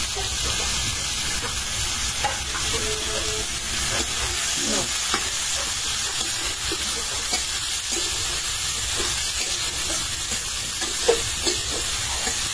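Onion and shrimp fry in a pan while being stirred, making a loud, steady sizzle and hiss with occasional scraping of the utensil, close up and continuous.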